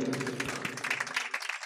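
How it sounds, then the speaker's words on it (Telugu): A church congregation at a thanksgiving prayer meeting clapping, a busy patter of many hands at moderate level that thins out and fades toward the end. "చప్పట్లు కొట్టండి గట్టిగా"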